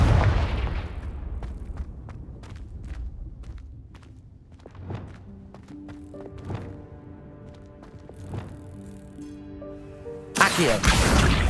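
A Confringo blasting spell going off in Hogwarts Legacy: a deep opening boom that fades, then scattered thuds and impacts over sustained tonal game music, closing with a sudden loud burst.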